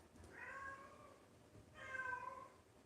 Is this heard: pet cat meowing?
yes